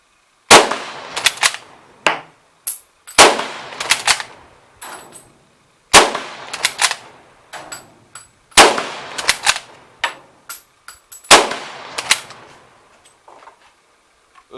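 Repeated sharp gunshots from a Czech Vz24 Mauser bolt-action rifle, fired in rapid bursts of two to four shots with brief pauses, each crack loud and close with metallic clangs between.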